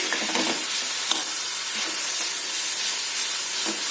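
Bread pizza stuffing is stirred with a spoonful of mayonnaise in a bowl or pan, a steady soft scraping and sizzling hiss running through the clip with a few louder stirring strokes near the start and end.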